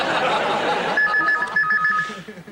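A telephone rings in a comedy sketch, a repeated electronic ring tone entering about a second in and continuing, fairly loud over background noise and murmuring voices.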